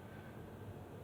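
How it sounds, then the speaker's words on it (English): A passing airplane overhead produces a low, steady, distant roar that stays faint and even throughout, with no voices. "It might sound kind of like a plane, but, well, actually, that was a plane."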